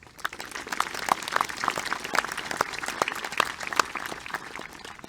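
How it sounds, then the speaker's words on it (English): Graduation crowd applauding at the JRHS 2021 commencement, a lively sustained roar of many hands with sharp individual claps standing out, fairly loud and close throughout. "Let's give them a round of applause."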